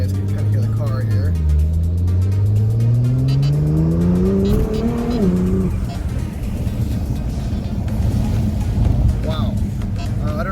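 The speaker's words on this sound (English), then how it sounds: "I don't know if you guys could hear the blow-off valves, but they sound outstanding" A 600 hp Nissan GT-R R35 Alpha pulls away from a light, engine note rising steeply through a gear and then dropping, followed by turbo blow-off valve hiss and a rough, close rumble.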